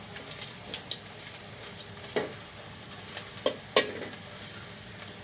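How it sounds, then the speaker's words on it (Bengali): Chicken pieces frying in a pan for a curry, with a soft steady sizzle broken by several sharp scrapes and clinks of a spoon stirring against the pan, fairly quiet and close. "ভেজে নিচ্ছি ভেজে নিলেও ফ্লেভারটা একটু ভালো হবে তরকারিতে"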